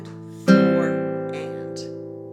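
Classical guitar etude phrase with a bass note plucked and left ringing, a single bright attack followed by a long sustained decay with faint higher notes over it.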